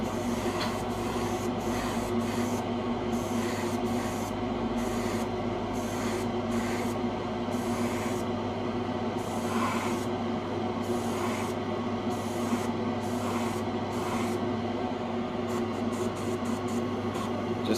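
A spray gun lays a gunmetal gray base coat for carbon fiber decals, giving a steady faint hiss with short bursts and pauses as the paint is applied in passes.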